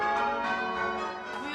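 Church bells rung by a team of ringers on a practice night, sounding as a dense wash of overlapping tolling tones with a steady sustained ring and no clear pauses.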